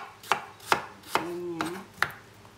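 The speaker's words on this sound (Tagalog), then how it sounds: "So, i-cut lang yung apple guys." Knife chopping through an apple on a cutting board, five sharp separate cuts about half a second apart, close and crisp, with no talking.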